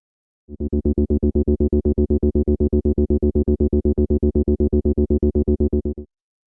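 A loud acid bass synth line plays rapid, evenly repeated accented notes with the filter opening, decay at maximum and accent around 75%, sounding buzzy and distorted in a relentless sixteenth-note pulse for about five and a half seconds.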